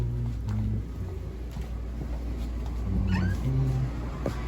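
A cat meows a few times in a low, drawn-out voice over a steady background hum, fairly quiet and close by.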